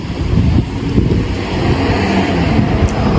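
Cold wind gusting steadily outdoors in Japan, a broad continuous rumble buffeting the microphone at close range with no voices.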